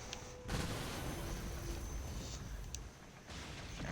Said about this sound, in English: Man, we shot right over them there.